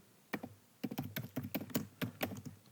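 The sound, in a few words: typing a question on a computer keyboard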